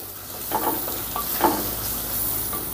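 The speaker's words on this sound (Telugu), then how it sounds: "ఈ టమాటా ముక్కల్ని కూడా వేసుకుందాం. రుచికి సరిపడినంత సాల్టు, ఒక 1/2 టీ స్పూను పసుపు, ఒక టేబుల్ స్పూను కారం. ఇప్పుడు ఈ మొత్తాన్ని ఒకసారి కలుపుకుందాం." Tomato pieces with salt, turmeric and chili stirred in a hot pan give a steady close sizzle, with a few soft scrapes of a spoon through the mixture and no speech.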